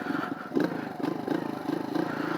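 A motorcycle engine during wheelie practice, with the rider standing, leaning the bike and working the clutch. The mid-pitched engine throbs in quick, uneven pulses, loud and close, with no talking.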